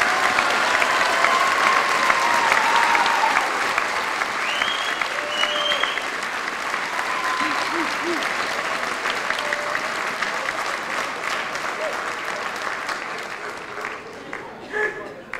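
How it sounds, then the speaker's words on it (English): A crowd at a graduation ceremony gives the graduates a long, sustained round of applause. The dense clapping stays fairly even throughout, with a few scattered whoops and voices over it. "One last round of applause for them."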